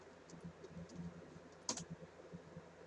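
Computer keyboard typing heard faintly in a quiet room: a short run of soft, irregular key clicks with one sharper tap partway through.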